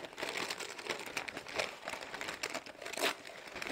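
Paper being torn by hand for decoupage on a furniture makeover, a soft, close run of ripping and crinkling that keeps going steadily with no voices.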